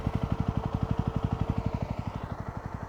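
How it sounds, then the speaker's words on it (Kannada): A Yezdi Roadster motorcycle engine idles alone with a steady, fast thumping beat that softens slightly toward the end, heard close up. "ಇದು ನೋಡಿ ಐಡಲ್ ಸೌಂಡು ಎಷ್ಟು ಬೇಸಿಯಾಗೈತೆ"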